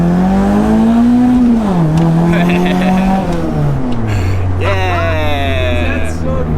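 A Toyota 4AGE engine with a straight-through muffler revs hard, its loud raspy exhaust note climbing, dipping and dropping back to a lower drone, close up, with voices talking over parts of it.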